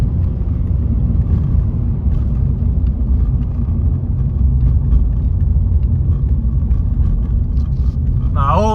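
An old truck cruises down the road on a long trip, its engine and road noise a steady loud rumble from inside the cab throughout, with a person talking over it.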